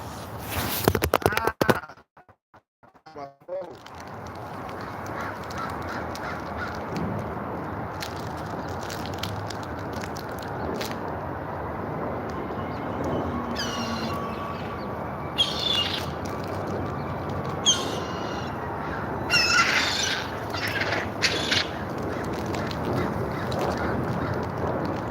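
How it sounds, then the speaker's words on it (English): Hungry seagulls squawk in short, scattered bursts over a steady outdoor background noise, the calls fairly close but not loud. "Boy, hungry ass seagulls."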